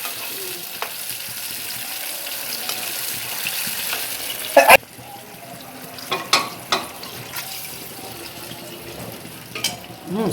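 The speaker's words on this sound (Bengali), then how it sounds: "বন্ধুরা মাংস রান্না হয়ে গেছে প্রায়" Meat curry cooking and being stirred in a pan, with a steady sizzle and frying hiss broken by a sharp clatter midway and a few scattered scrapes and knocks afterward.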